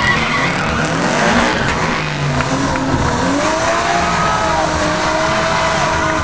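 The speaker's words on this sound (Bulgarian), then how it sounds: "А това, уважаеми дами и господа, се казва истински бърнаут" A drift car at a Sofia drift show performs a burnout, tires squealing continuously under a loud, revving engine, with a sustained roar and wavering screech throughout.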